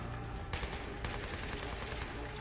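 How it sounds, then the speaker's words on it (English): Dense automatic gunfire rattles continuously in the video game Battlefield 3, overlapping bursts forming a loud, unbroken fusillade. "A lot of automatic fire here."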